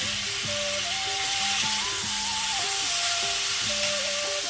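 Potato curry (aloo torkari) cooking in a pan, a steady sizzle and hiss running throughout beneath a simple melodic tune playing in the background.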